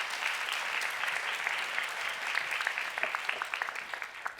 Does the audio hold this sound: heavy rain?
no